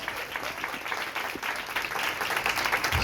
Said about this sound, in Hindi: आए उसके लिए जोरदार तालियां बजाएं मेरे जीजो, जोरदार तालियां